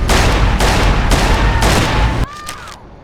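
Bursts of gunfire crack through a shootout in Mafia, dense and loud in repeated volleys, then stop abruptly, leaving a quieter tail with a faint whistle.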